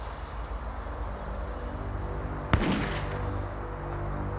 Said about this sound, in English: a gunshot shattered the morning silence